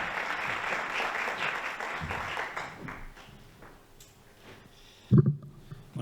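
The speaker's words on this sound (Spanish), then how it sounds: "Un aplauso." An audience applauds as a party president is welcomed to the stage at a provincial meeting of independent political groups, steady clapping that gradually fades out, followed by a brief thump near the end.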